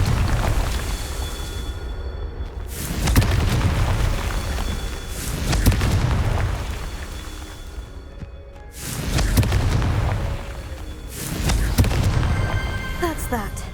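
Deep booming blasts from the Confringo spell in Hogwarts Legacy, several heavy explosions spaced a few seconds apart over a constant rumbling game soundscape, with a voice speaking between them.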